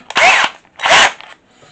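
Sealey 12V CP1201 cordless drill/driver fitted with a driver bit, giving two short, loud whirring bursts of the motor spinning up and stopping, separated by a brief pause.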